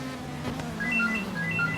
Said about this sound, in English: Sounds like Andrew Ford's got a phone call